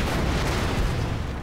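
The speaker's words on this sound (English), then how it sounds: "Explosions happened." Explosions from the Halo 5 video game, a dense continuous rumble of blasts and booms that stays loud and broadband throughout the short stretch, with no talking.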